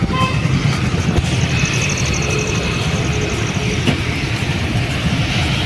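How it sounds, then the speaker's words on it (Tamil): Heavy road traffic rumbles close by with engines and passing vehicles blending into a dense, continuous roar. A voice talks over it at times. "ஃபுல்லாக டிராஃபிக் ஆயிடுச்சு."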